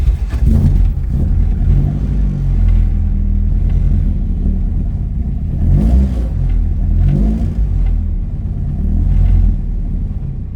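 A Ford Escort Mk2 engine runs close by with a steady low rumble, swelling in several rev blips over the idle.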